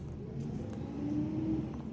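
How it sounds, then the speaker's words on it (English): A garbage truck's engine rumbles steadily nearby, a low mechanical drone that swells a little midway, with faint clanks on top and no talk. "Garbage truck just came, making all sorts of noises"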